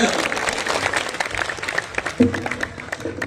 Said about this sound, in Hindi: जोरदार ताली बजाइए आप सौरभ